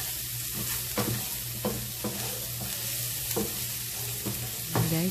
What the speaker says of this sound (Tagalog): Haluin na lang natin.